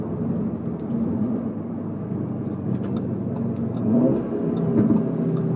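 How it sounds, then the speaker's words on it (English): A 2020s Audi S3 8Y (213 kW, 400 Nm) accelerates hard, its exhaust giving a continuous, loud engine roar heard from inside the car, rising slightly in pitch and intensity toward the end. "This exhaust is very alive."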